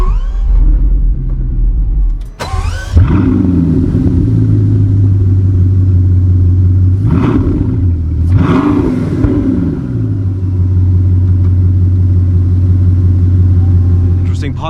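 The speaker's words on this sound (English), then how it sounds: "for the first time ever, I will start a Chiron or a Bugatti in general, and yeah, let's just listen to that sound" A Bugatti Chiron Super Sport cold-starts with a sharp bark, then settles into a loud, deep idle broken by two quick throttle blips that rise and fall before the steady rumble returns.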